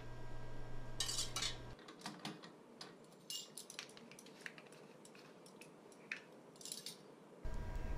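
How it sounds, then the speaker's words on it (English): A spoon stirs melted butter and chocolate in a bowl, giving a run of scattered clinks and scrapes against the bowl at a close, moderate level, busiest early on and then thinning to occasional taps. "Continue to stir your butter and chocolate until it's smooth and creamy"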